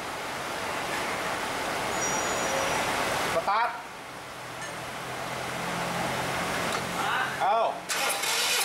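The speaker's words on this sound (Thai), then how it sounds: "เหยียบคันเร่งให้สุดแล้วสตาร์ท" A Honda Civic 1800 cc engine cranks over with the throttle held wide open during a compression test. The whirring churn pauses briefly partway through, then resumes, while people talk nearby.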